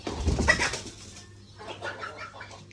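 Chickens in a poultry shed make a short burst of soft clucks and coos, close and moderately loud, trailing off into quieter murmurs.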